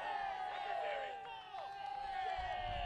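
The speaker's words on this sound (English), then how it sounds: "Hamilton fans cheering every throw, every free kick, everything that goes their way at the moment" Hamilton Azzurri fans cheer at an FFC Cup football match against Jesmond FC, a steady wash of crowd noise and shouts with a sustained whistle-like tone running throughout and a low rumble swelling near the end.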